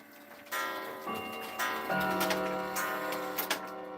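A striking clock goes off indoors, its chime tones ringing out in several struck notes over a steady ticking, fairly close and moderately loud, with no talking.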